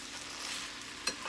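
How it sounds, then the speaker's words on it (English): Crustless tamale pie mixture is stirred in a pan, a soft continuous scraping and faint sizzle with one brief sharper clack near the end, no talking. "stir and get everything blended"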